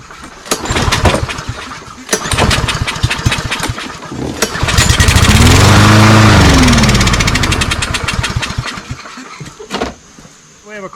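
A brand new push mower's small engine, fitted with an automatic choke and primed with starting fluid, sputters several times, then catches and roars loudly for a few seconds before dying and coughing briefly near the end.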